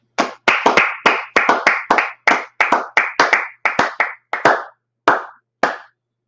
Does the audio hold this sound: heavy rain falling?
no